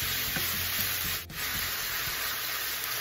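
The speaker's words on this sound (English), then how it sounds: "Stir fry the meat till it's like fully cooked before you add in the vegetable." Beef stir-frying in a pan for a beef and green bean dish, a steady soft sizzle with light scraping and stirring strokes, fairly quiet and close throughout.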